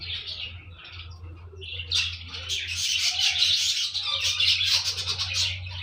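Budgies chirping at a bird farm, a dense flock of small parakeets giving continuous high twittering calls that swell louder in the second half, over a steady low hum.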